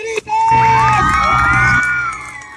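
A crowd of spectators at an outdoor clown show in Mexico City's Alameda Central bursts into loud, sustained cheering and shouting, with children's high whoops and screams rising over the din for a couple of seconds.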